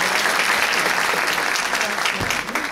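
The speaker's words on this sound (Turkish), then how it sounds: "Onlara da bir alkış alalım lütfen." An indoor audience at a Turkish civic ceremony for an economic solidarity event claps loudly and continuously, a dense steady wave of applause close by for the whole stretch.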